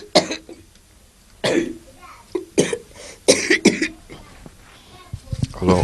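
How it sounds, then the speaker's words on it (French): A woman coughs in several sharp, separate bursts with pauses between them, close and fairly loud, with a few throat sounds in the gaps. "c'est pour ça qu'elle tousse comme ça"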